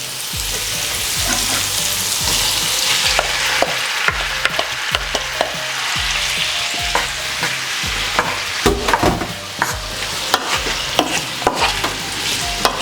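Tomatoes fry and sizzle in a pan for Turkish menemen while a utensil stirs steadily, with repeated scraping and clacking strokes over continuous close frying hiss.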